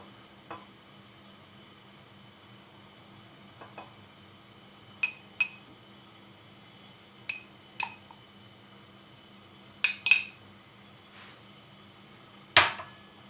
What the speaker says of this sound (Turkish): Şimdi rendelemiş olduğumuz sabunumuzu şöyle kavanozumuza dolduruyoruz.